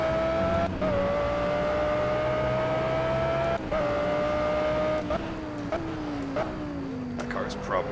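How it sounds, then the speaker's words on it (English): A BMW M3 GT4 race car in the Project Cars racing game holds a loud, steady engine drone, with brief pitch breaks at gear shifts and a falling note near the end as it slows. A voice talks over it. "I'm pretty sure that's the GT4 BMW, which I believe is the M3 GT4."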